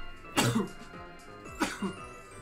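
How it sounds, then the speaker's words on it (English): Two quick, close nasal bursts, each a sharp explosive puff, spaced about a second apart against a quiet background. "I'm about to sneeze."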